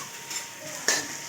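Onions frying in a pan, a soft steady sizzle punctuated by a couple of metallic clinks from a utensil against the pan, close and without talk.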